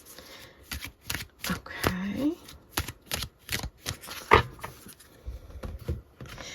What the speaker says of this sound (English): let me actually give these a little bit of a shuffle for you.